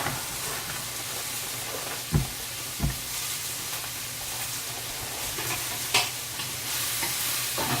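Onions fry in a pan for sweet and sour pork, giving a steady broadband sizzle with a few sharp scrapes and knocks as they are stirred. Nobody speaks over it.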